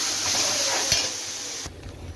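Onion masala with rock salt and turmeric sautéing in a pan for a fish curry, a soft, steady sizzle with a single light utensil tap partway through.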